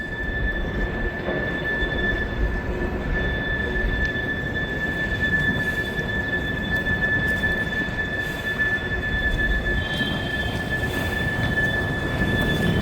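A Norfolk Southern freight train rolling past on old, smaller rail in northern Kentucky, a steady close rumble of wagons with a sustained high wheel squeal running through.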